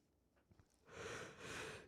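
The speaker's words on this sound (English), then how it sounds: "Sorry, big yawn." A soft breath leads into a long, drawn-out yawn, near and fairly quiet, with a brief pause partway through.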